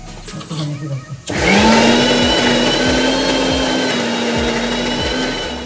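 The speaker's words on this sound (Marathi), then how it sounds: "आता मी मिक्सरला ह्याचं पण बॅटर बनवते" A mixer grinder blending medu vada batter switches on abruptly and runs loud and steady at high speed, its motor whine constant with rhythmic churning thumps; the kitchen is quiet before it starts.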